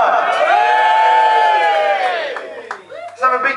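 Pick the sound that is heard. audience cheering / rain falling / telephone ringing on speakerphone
audience cheering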